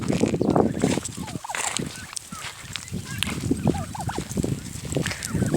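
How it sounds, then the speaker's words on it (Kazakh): Farmyard turkeys gobbling: repeated rapid gobble calls from several birds, some near and some farther off, over continuous rustling and low background noise. "жейтін нәрсе көп күрке тауыққа"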